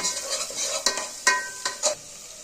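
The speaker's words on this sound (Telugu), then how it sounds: "ఇంక ఇందులోనే కొంచెం కరివేపాకు కూడా వేసేసుకోవాలి" Curry leaves sizzle in hot oil in a pan while cooking a home-style fish curry (chapala kura), giving a steady close frying hiss. Several sharp scrapes and knocks come through as the leaves are stirred.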